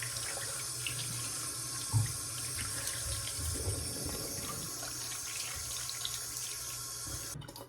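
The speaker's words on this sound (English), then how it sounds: "And then I'll rinse it off." Running tap water splashes steadily as a face is rinsed at a sink during a bedtime skincare routine, a continuous close wash with small splashy bursts, no talking.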